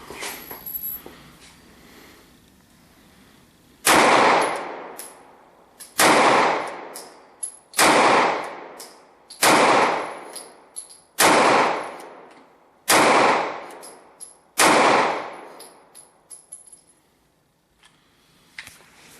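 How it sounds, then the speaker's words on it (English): A Kahr CW9 9mm pistol fires at an outdoor shooting range, eight sharp, loud gunshots spaced about one to two seconds apart, each followed by a ringing echo tail that decays before the next. "Let's go ahead and shoot over Ryan's shoulder and see how this guy does."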